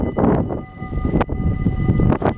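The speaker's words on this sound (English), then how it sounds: "Should be a train coming over there somewhere." A train passes close by with a loud rumbling rush of wheels and carriages, sharp metallic clanks and squeals breaking through, and a faint steady tone running underneath, with no voices.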